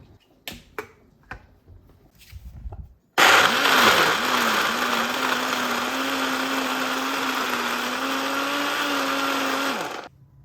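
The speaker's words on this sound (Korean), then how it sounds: "아몬드유 같은 식물성 드링크에 각종 견과류를 소금도 넣고 갈아줄게요" A countertop blender grinds mixed nuts with almond milk and salt, a loud steady whirring roar starting abruptly after a few light taps and running continuously for about seven seconds before cutting off.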